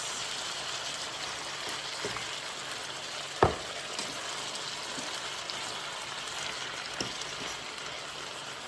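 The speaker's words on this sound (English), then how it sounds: "Now we're adding the okras, guys, and the butter beans." Okra and butter beans fry in a pan with a steady, fine sizzle, close by. A single sharp clack of a utensil lands in the middle, and there is no speech.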